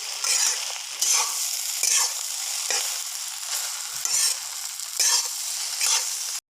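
Chopped green onion and carrot tossed in a sizzling pan for Korean-style egg fried rice, bright frying hiss rising and falling with rhythmic stirring strokes about every second, close and fairly loud, no talking.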